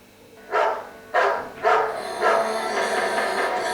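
A dog barking sound effect played on an iPad 2 barks four times in a steady rhythm, each bark sharp and close, followed by a lingering noisy tail.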